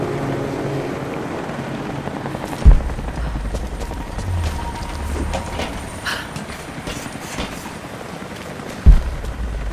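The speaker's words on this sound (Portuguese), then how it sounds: "Nossa, o helicóptero." A helicopter approaches in the game Rise of the Tomb Raider at a Soviet base in glacial caverns. A low, steady rotor rumble runs under wind noise throughout, with two sharp thuds in the background.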